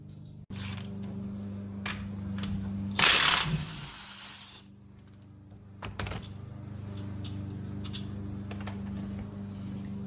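A ratchet wrench works on the lower shock mounting bolt of a 3rd-gen truck during a leveling kit and add-a-leaf install, giving close, repeated clicking ratchet strokes with a brief loud burst of noise midway, with no talking.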